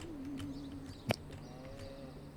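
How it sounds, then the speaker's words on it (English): A single low cow moo drawn out on a farm in the video game Planet Coaster 2, under soft ambient game sounds with a brief sharp click in the middle. "There's definitely a cow mooing"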